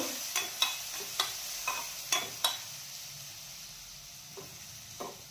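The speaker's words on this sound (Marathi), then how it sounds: "हिरवी मिरचीचा ठेचा छान तळून घ्यायचा आहे।" Green chili paste frying in a pan gives a soft, steady sizzle, with a few light taps of a stirring utensil in the first half and two more near the end, close but quiet and with no voices.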